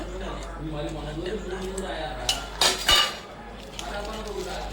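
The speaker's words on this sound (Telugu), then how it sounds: "పెరుగు కూడా అందులో కలిపేసుకొని కలిపేసేయాలి మొత్తాన్ని కూడా" Spoon clinking and scraping in a bowl as curd is mixed into snake gourd chutney with green chilli pieces, curry leaves, salt and turmeric, a few sharper clinks standing out under continuous nearby talking.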